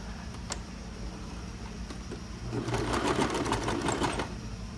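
A sewing machine sews a blouse collar with a 1 cm seam. A low hum and a couple of soft clicks lead into a rapid, fairly loud mechanical stitching run that lasts about two seconds, heard close up without talk.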